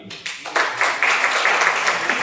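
A room full of people claps loudly, with steady, energetic applause starting quickly and holding.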